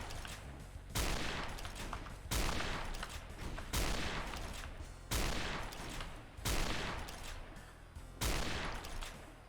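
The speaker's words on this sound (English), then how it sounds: "I forgot they had a sniper rifle still" Heavy, booming sniper rifle shots fire in the Doom 2 video game, six evenly spaced blasts roughly every one and a half seconds, each followed by a long rumbling decay, loud and unaccompanied by speech.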